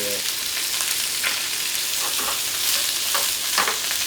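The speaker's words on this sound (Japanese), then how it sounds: "で大根も炒める。 ただこうやって炒めていくだけ。" Daikon radish stir-fried in a pan for Shanghai-style braised chicken wings and daikon: a steady close sizzle with scraping stirring strokes that come and go, and no talking.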